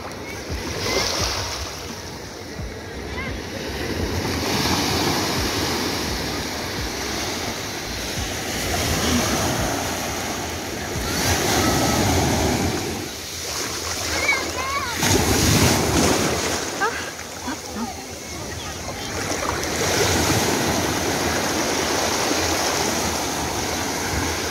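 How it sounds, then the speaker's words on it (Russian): Strong sea waves at Amadores beach in Gran Canaria surge and crash in repeated swells, rising and falling in loudness over a windy roar, with faint voices now and then in the background. "сильные волны"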